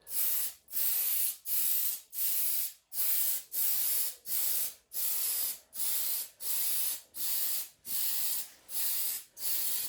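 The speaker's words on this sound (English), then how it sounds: "I'm going to do a little test spray" A spray paint can puffs white paint in a light test coat for a Tamiya 1/10 scale Porsche 956 body, about a dozen evenly spaced hissing bursts with short silent gaps, close and loud, no voices.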